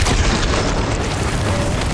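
Somatic grenades from Death Stranding blast on the ground in a dense, continuous boom that fills the whole two seconds, loud and close with a heavy low rumble and no talk over it.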